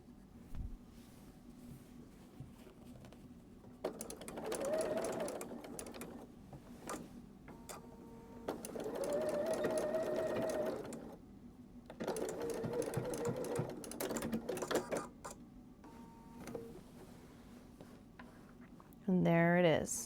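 A sewing machine stitches binding onto a quilt in three bursts of rapid, steady needle rattle separated by quiet pauses, close and clear against a faint background hum.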